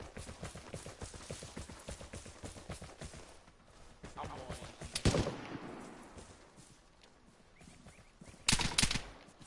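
Gunfire rattles through the Vigor video game in scattered distant bursts and single shots. Players talk over it, and there are louder, closer blasts around the middle and near the end.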